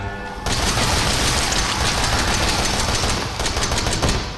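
Rapid, continuous video game gunfire from Resident Evil 7, loud and dense. It runs as one unbroken automatic barrage for about four seconds after a brief quieter start.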